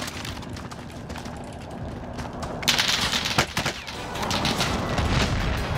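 Gunfire in the Call of Duty Warzone video game, a shotgun among the weapons: a handful of sharp shots and a brief burst crack out against a low game backdrop, moderately loud.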